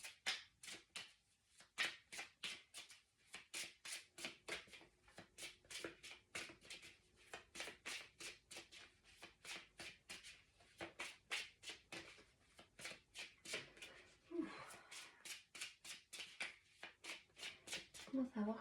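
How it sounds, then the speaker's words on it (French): Tarot cards shuffled by hand in a rapid run of crisp riffling flicks, steady and close, with a brief pause and soft handling near the end. "Je vais tirer une carte."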